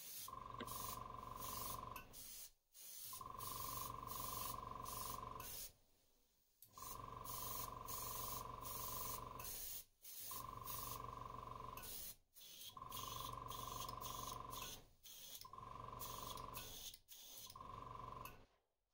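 An airbrush sprays Createx pearlized white paint onto a hardbait Ned rig fishing lure in several long hissing bursts separated by short pauses, with a steady tonal whine from the compressor, close and quiet.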